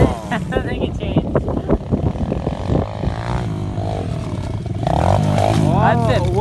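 Pit bikes race hard nearby, engines buzzing and revving with rising and falling whine, a louder pass toward the end, while people talk over the noise.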